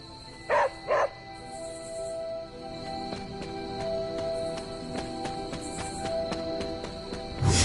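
A dog barks twice in quick succession in the video game Marvel's Midnight Suns, followed by a quieter stretch of ambient game sound with soft ticks and tones.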